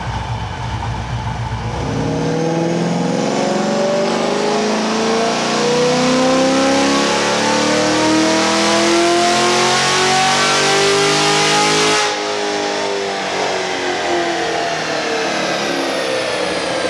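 A car engine with its airbox lid removed revving hard on a dyno, rising in one long loud sweep of climbing pitch and then dropping off sharply as the throttle closes.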